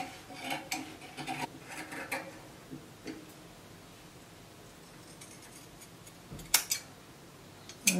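Scissors cutting dress fabric for a short bishop-collar dress produce quiet, crisp snips in small clusters, separated by a faint, near-silent stretch before a few louder clicks at the end.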